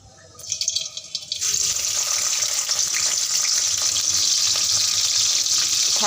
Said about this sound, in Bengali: এখন আমরা পেঁয়াজ কুচি আর মরিচ কুচি দিয়ে দিব।